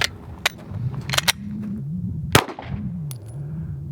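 Three 9mm rounds from a Glock 17 strike a sheet of bulletproof glass, sounding as sharp, close cracks in an uneven burst over a low background rumble.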